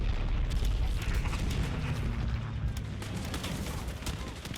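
Battle sounds from Hearts of Iron 3 during a Soviet Union campaign, a dense continuous wash of distant gunfire and booming explosions that stays loud throughout, with no clear voice on top.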